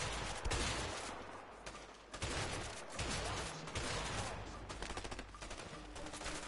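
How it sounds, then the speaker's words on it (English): Shotgun fire in a video game, dense overlapping gunshots and bursts with blasts of varying loudness, sustained throughout amid chaotic game noise and some voices. "I'm sniping them with my shotgun!"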